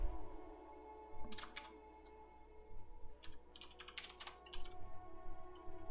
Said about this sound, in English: You guys can see my extremely slow typing here from the other screen.